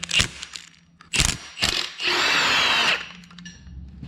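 A ratchet wrench loosening a connecting rod bolt to free a piston from an engine, heard as a few sharp clicking bursts and then a longer, steady buzzing ratchet spin, close up and loud.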